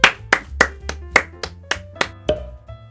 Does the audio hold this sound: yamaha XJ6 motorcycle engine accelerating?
no